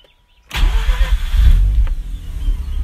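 A hot Mazda RX8 rotary engine cranks and fires after a brief silence, then settles into a loud, steady, close-up idle with slight fluctuations.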